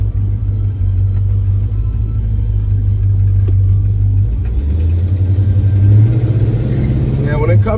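A 1971 Chevrolet Chevelle with column shift pulls away while being driven, its low engine rumble steady and loud, rising in pitch as it accelerates, with someone talking over it.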